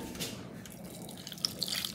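Hot water is poured into a pot holding broccoli for a salad. A soft, steady watery stream runs for a couple of seconds with a few small splashy drips near the end, fairly quiet and close.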